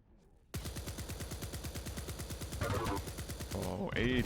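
A rapid burst of nailgun fire in a fast arena shooter match, a dense mechanical rattle of repeated shots running for several seconds, with other weapon and pickup sounds layered in near the end.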